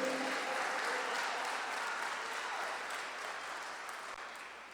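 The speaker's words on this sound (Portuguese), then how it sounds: "Levante a sua mão mais alto que você puder e aplauda bem forte o nome do Senhor." A church congregation claps hard and fast in sustained applause, a dense wash of many hands filling the room and easing slightly toward the end.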